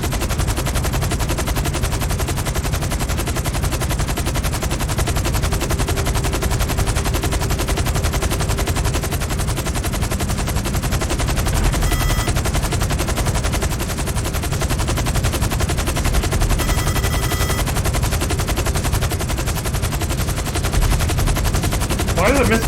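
Missiles and rapid gunfire during an aerial chase in Grand Theft Auto 5, heard as a dense, continuous, loud barrage of shots and roaring engine noise lasting throughout, with no talk over it.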